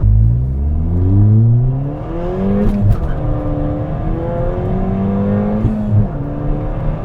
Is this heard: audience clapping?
no